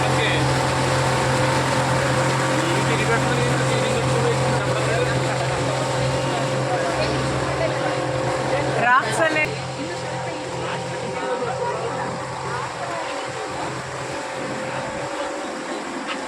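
A motorboat engine drones steadily on a reservoir near Srisailam dam, carrying riders toward Akkamahadevi cave; the loud hum stays constant with a brief bump midway and faint voices underneath.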